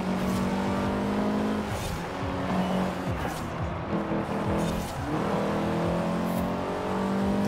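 Engine of a Mazda RX-7 in the racing game Forza Horizon 4, a loud steady rising and falling rev with tire noise and skids running through the whole stretch.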